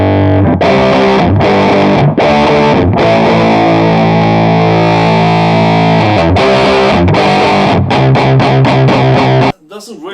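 An electric guitar played through stacked distortion effects on a Kemper Profiling Amp gives loud, saturated sustained chords, then a run of choppy palm-muted chugs before cutting off abruptly.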